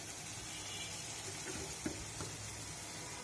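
Spice paste for prawn dopiaza fries in a pan with a low steady sizzle, and a spoon gives a few soft scraping knocks as it stirs the paste.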